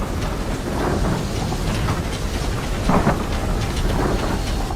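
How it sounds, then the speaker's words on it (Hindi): A heavy nighttime thunderstorm in a cartoon scene, with steady roaring rain and low rumbling thunder that swells briefly near the middle. "उसी रात उमेश और पूनम उस भयानक गरज में एकदम शांति से सोते रहते हैं।"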